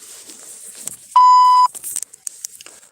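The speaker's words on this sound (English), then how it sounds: "Please leave a message after the tone." Voicemail tone: a single clean electronic beep lasting about half a second, loud and steady, set between faint background rustles with no speech.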